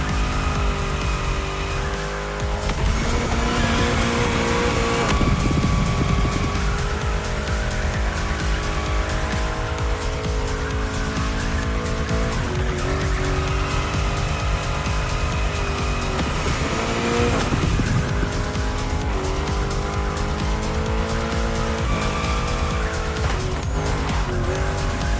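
Car drifting in the video game The Crew Motorfest, a loud continuous engine roar with long sustained tire squeals rising and falling through the bends, close and unbroken, with no talk.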